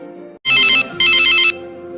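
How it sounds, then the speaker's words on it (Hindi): Telephone ringtone announcing an incoming call, two loud bright bursts of electronic ringing separated by a short gap, followed by a steady lower musical tone. "अरे भाभी का फोन, इतने दिनों के बाद कैसे याद आ गए।"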